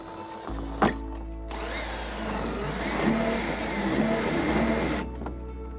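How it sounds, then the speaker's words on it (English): A power drill with a 1/4-inch bit whirs steadily for about four seconds drilling a hole in a 2015 Toyota Sienna panel, close and loud, with a clack before it starts and a handling knock as it stops. "we're going to use a 1/4-inch drill bit to drill our first hole"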